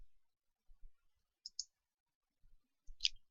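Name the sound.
computer mouse click on next page button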